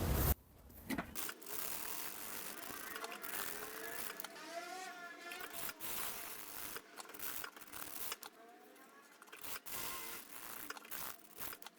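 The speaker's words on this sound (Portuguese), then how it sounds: "Então, eu vou costurar aqui, vou fazer essa curva aqui e fazer retrocesso aqui" A sewing machine stitches fabric around a curve and backstitches, producing a steady mechanical whirring run with short pauses between bursts; a few quiet clicks are also heard.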